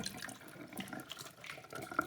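Tap water runs into a salad bowl with a built-in strainer, rinsing the greens, making a soft, uneven splash and trickle with a few brighter drips near the end.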